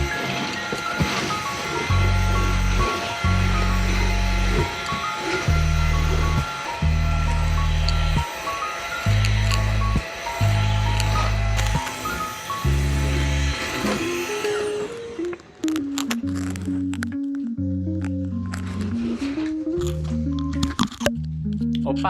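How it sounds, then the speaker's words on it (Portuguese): A household vacuum cleaner is pushed around the house, its loud, steady motor whine running throughout while the tone rises and falls with the strokes and shifts pitch toward the end. "eu vou aproveitar esses minutinhos para passar o aspirador pela casa"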